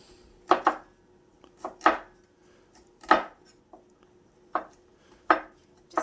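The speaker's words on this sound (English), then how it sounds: "just going to do a rough chop. It doesn't have to be too fine." Butcher knife roughly chopping garlic cloves on a cutting board: crisp, irregular thunks, often in quick pairs, close and clear with quiet gaps between them and no talking.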